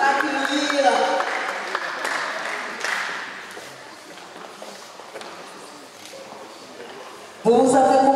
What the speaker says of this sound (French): Un petit applaudissement, s'il vous plaît.